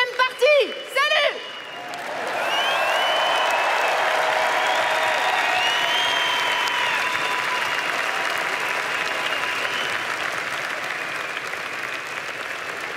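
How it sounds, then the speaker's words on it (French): An audience at the Zénith de Paris breaks into loud sustained applause after a short spoken announcement, a thick roar of clapping from a large crowd that continues evenly to the end. "je vais vous demander de faire un triomphe, un tonnerre d'applaudissements pour la deuxième partie."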